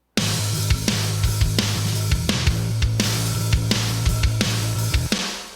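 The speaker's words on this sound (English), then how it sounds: "So let's solo up some drums and some bass." Soloed drums and bass from a mix play a steady groove, with punchy kick and snare hits over a sustained low bass line, loud and continuous with no talk, ending in a short decay.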